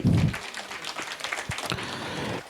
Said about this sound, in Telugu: ఓకే, చప్పట్లు